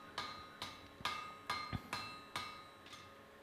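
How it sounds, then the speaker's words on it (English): Cross peen forging hammer spreading hot steel for a Sutton Hoo style axe-hammer, seven ringing metallic strikes at a steady, unhurried rhythm, close and clear, with no voices. "So I am using the cross peen for this, because it's the best way to spread material without it stretching lengthways."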